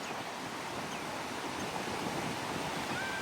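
Sea waves washing onto the shore during beach-seine fishing for sapari fish, a steady broadband wash with wind noise on the microphone, continuous and fairly loud with no distinct breaks.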